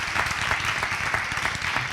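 Applause during an interview about a new Europa football shirt, a short continuous patter of clapping at moderate level.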